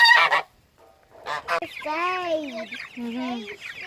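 Several loud fowl calls from farm chickens and turkeys, honking and clucking in bursts close by, with brief pauses between them.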